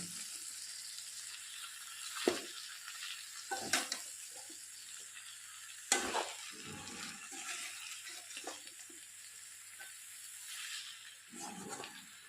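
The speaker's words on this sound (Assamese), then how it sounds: "এইখিনি মই এতিয়া লৰাই কম ষ্টিমত সিজিব দিম ভালদৰে।" Meat stirred in a pan over low heat for a banana tree and meat dish, with a soft steady sizzle, occasional sharp scraping clatters from stirring, and a faint watery hiss throughout.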